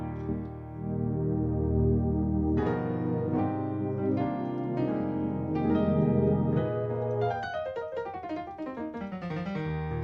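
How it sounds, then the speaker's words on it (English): A synth pad played on a Korg Kronos keyboard gives sustained, layered chords that change several times and swell smoothly, with no speech over them. "this is just a pad that I used earlier."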